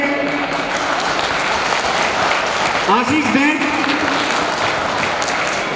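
Audience applause at a school annual function, a dense steady wash of clapping throughout, with a speaker's voice rising over it partway through.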